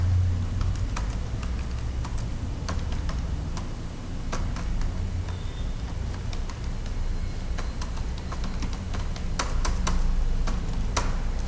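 Keys on a computer keyboard clatter as an address is typed into Tally ERP 9 accounting software, with sharp, irregular taps continuing steadily at close range.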